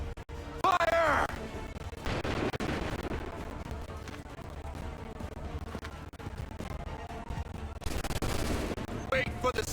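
Musket volleys crack out in the Assassin's Creed 3 video game, dense bursts of gunfire layered over battlefield noise, with shouted commands heard over the shots.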